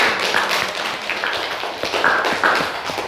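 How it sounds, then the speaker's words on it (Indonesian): A class of students claps for a classmate in a school lesson, producing a brief, fairly close burst of scattered hand claps with uneven, overlapping hits and no talking. "Beri tepuk tangan untuk Purnama"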